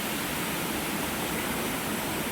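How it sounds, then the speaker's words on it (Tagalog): Waterfall on Ticao Island in Masbate, a steady, dense rush of falling water, loud and close, a continuous hiss with no breaks. "Tapos yan ang falls."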